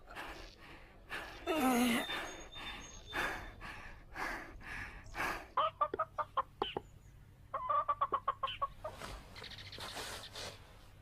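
Chickens clucking in short bursts, with a quick run of sharp rhythmic clucks partway through and quieter fowl sounds around them.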